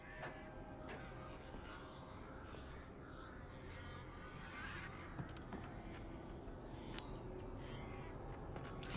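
Crows cawing in the video game Alan Wake, several harsh caws scattered across a quiet, low ambient backdrop, fairly distant and faint.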